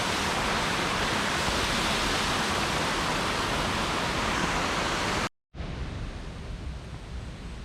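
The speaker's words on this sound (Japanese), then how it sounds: "昨日まで雨だったので、結構川の流れが激しいです。" A fast, rain-swollen river rushes loudly and steadily in a broad, unbroken roar, close by, with a brief cut to silence before the torrent resumes slightly softer.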